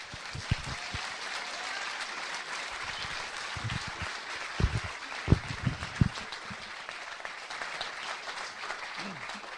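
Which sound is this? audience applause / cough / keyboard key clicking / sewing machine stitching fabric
audience applause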